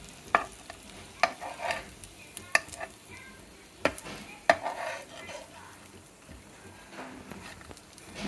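Chicken kheema seekh kebab frying in a pan, with soft sizzling under intermittent clinks and scrapes as the kebabs are turned, sharp utensil taps standing out against a quiet, steady background.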